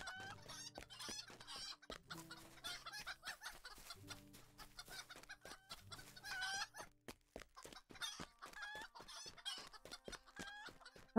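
A wee flock of chickens clucking close and continuously in short, choppy bursts, with steady low tones sounding underneath throughout.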